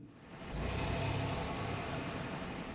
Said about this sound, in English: Riding on the bus to Stardew Valley.